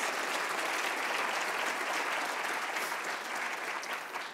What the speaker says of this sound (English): How about a round of applause for our centers and our center directors?